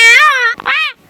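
A human voice imitates a dog with a single drawn-out, whining bark-like call, then a second shorter howl after a brief break, loud and close in a comic Gujarati sketch.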